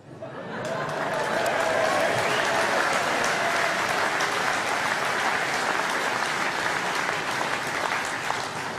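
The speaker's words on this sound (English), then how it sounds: "I think that got about the biggest round of applause, actually." An audience at the UKIP party conference bursts into applause after a speech line, clapping swelling quickly to a loud, steady roar and sustained for several seconds with scattered chuckles.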